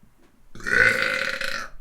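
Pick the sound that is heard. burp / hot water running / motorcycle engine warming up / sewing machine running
burp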